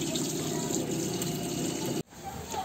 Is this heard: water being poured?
yes